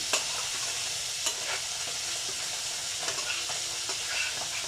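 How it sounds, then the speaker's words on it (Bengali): Fish curry spices and chili powder sauté in soybean oil with a loud, continuous sizzle, punctuated by sharp scraping strokes of stirring spread across the clip. "কষায় নিচ্ছি, একটু কষায় নিতে হবে মশলাগুলো দিয়ে"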